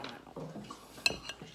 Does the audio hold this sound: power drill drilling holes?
no